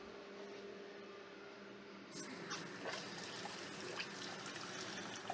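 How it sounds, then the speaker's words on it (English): Water splashes and trickles into a blender of green smoothie ingredients with wheatgrass powder, a soft steady pour starting abruptly and running to the end, close and fairly quiet over a faint room hum. "I'm going to go ahead and put some water in there."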